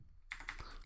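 Brief burst of computer keyboard typing as code is entered, a few quick, light, close key clicks in quiet surroundings.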